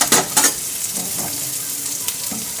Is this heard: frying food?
yes